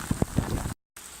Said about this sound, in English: It's just cut off my video by having rain absolutely hammering down on the screen.